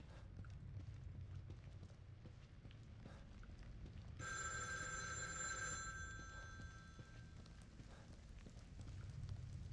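A telephone rings in the survival horror game The Evil Within 2, one faint bright bell-like burst of about two seconds rising over a low rumbling ambient drone.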